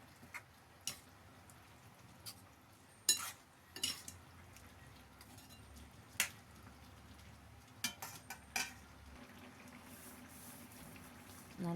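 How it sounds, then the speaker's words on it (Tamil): A spoon stirs knol khol sabzi in a cooking pot, giving sparse, faint metallic clinks and taps against the pot over a quiet simmer. "நல்லா கலந்து விட்டுப்போம்."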